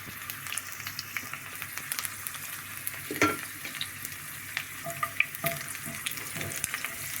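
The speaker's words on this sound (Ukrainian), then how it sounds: "дві-три буквально ложечки олії і кладемо наш часничок" Garlic fries in a few spoonfuls of oil in a preheated pan, a soft steady sizzle close by with occasional clicks and scrapes of stirring.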